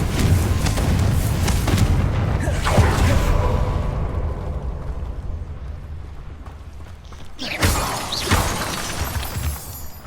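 A Confringo blasting spell bursts during Hogwarts Legacy combat, a loud shattering boom amid dense game action, followed by a second sharp blast near the end.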